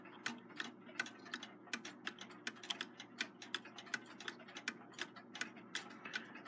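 A Seth Thomas long alarm clock ticks steadily at close range, crisp regular mechanical clicks at a brisk even pace over a faint quiet background.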